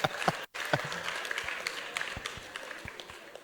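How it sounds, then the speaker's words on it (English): An audience at a medical and dental alumni gathering applauds, many hands clapping in a dense, steady patter that carries on throughout, moderately loud, with a short break near the start. "A round of applause for Professor Oji."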